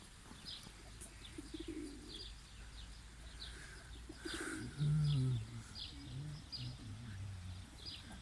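Pigeons cooing in a backyard loft, a few low soft coos rising briefly near the middle over quiet outdoor ambience, with faint chirps and a brief wing flutter scattered around.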